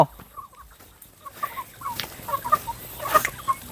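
Chickens cluck softly and repeatedly nearby, scattered short calls over a quiet outdoor background.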